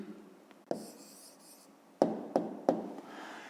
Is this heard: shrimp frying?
no